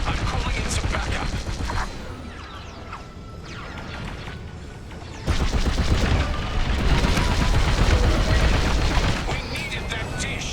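A broadcast dish exploding in the Star Wars: Squadrons video game, heavy booming blasts and rumbling debris that build in a loud surge midway through, with voices talking over parts of it.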